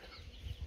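Domestic chickens cluck in a short, faint burst of soft low calls over a steady background hiss, with no voices.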